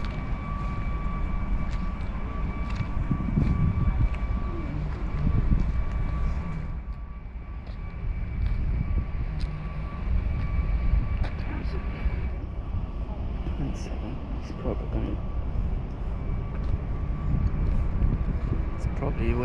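An airliner engine hums and roars at Glasgow Airport, a sustained steady drone with a whining tone, heard under nearby people talking outdoors.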